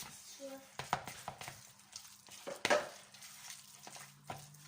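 A spoon stirs a peppered mixture for an aperitif snack, making soft, intermittent scrapes and clinks against the bowl, quiet and close, with a faint voice briefly present.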